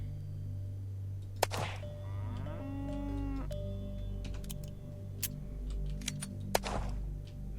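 A cow in the video game Unturned lets out one long, drawn-out moo in the middle, set against a low steady ambient hum, with sharp impact cracks before and after it.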